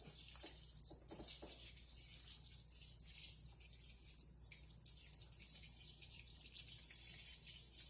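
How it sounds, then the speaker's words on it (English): Water poured from a container into a reptile egg incubation box lined with cut material, a steady splashing trickle with brief gushes, close and continuous throughout. "There's quite a little bit of water going in there."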